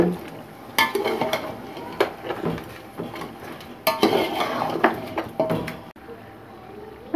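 Whole spices and bay leaf for nihari are stirred and roasted in a pot, a metal spoon scraping and clanking against the pot in irregular bursts over a soft sizzle.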